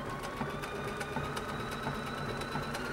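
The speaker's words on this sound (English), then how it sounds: "Hold the elastic and slowly begin to sew." A Bernina Artista 180 sewing machine stitches elastic onto cotton fabric, a steady, rapid mechanical needle clatter at close range, running evenly throughout without any voices.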